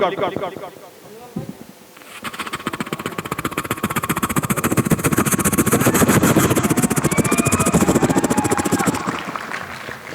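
A voice imitates a helicopter passing, a rhythmic chopping buzz that swells louder and then fades, after a brief spoken lead-in.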